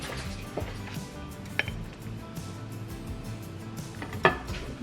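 Cheese tortellini being dished into bowls, with scattered light clinks of a utensil against ceramic dishes and a couple of sharper clanks over a quiet kitchen background.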